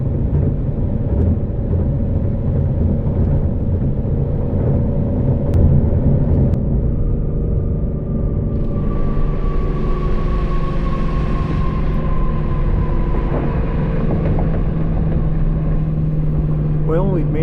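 A Shelby GT350 running on E85 flex fuel, its engine droning loud and close from inside the cabin, rising through a high-RPM shift with a climbing whine, then settling into a steady cruise hum.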